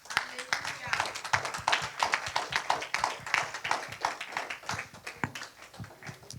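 A church congregation claps for the Lord during a morning service, a dense run of rapid, uneven handclaps from many people filling the room, with voices mixed in underneath.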